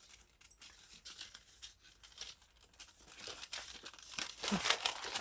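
Envelope paper is cut and crinkled for a junk journal window pocket, with soft irregular snips and rustles close by that grow louder toward the end, without talk.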